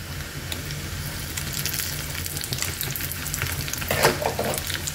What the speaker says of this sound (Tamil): இஞ்சி நல்லா எண்ணெயில் வறுபடட்டும்